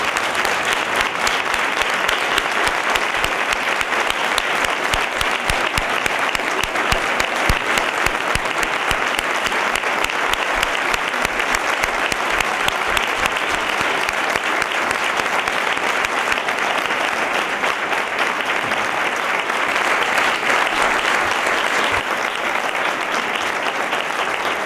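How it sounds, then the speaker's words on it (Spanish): A large audience at a municipal tribute ceremony rises and applauds strongly, a dense, steady roar of clapping that continues without pause for the full stretch. "Yo pediría que todo el mundo en pie diese un fuerte aplauso y reconocimiento a esta."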